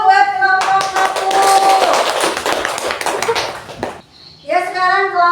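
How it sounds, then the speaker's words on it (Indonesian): A classroom gives applause for a student group: a burst of many hands clapping for about three seconds, loud and close, with a teacher's voice before and after. "Tepuk tangan dulu buat kelompok 1."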